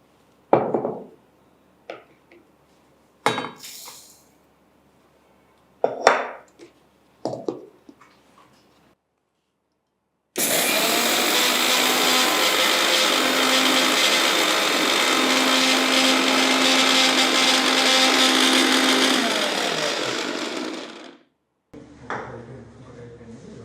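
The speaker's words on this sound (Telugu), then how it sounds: "దీనికి కావాల్సింది మనకు ఒక చిన్న మిక్సీలో వేసి మనం దీన్ని పౌడర్ చేసుకుందాము" A small kitchen mixer grinder whirs loudly and steadily for about ten seconds as it powders flax seeds. It starts abruptly after a few separate knocks and clatters, then winds down and stops, with a brief clatter following.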